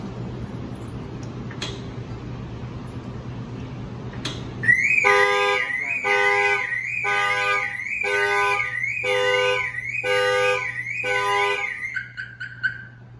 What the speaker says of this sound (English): The alarm will go off and trigger, and you guys will see exactly how that works too